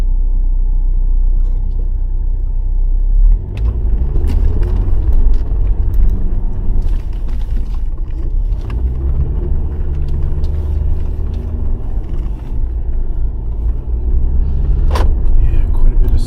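A vehicle in off-road plus mode pushes through blown snow during winter camping, a steady loud engine rumble with crunching and thumps throughout, faint talk now and then.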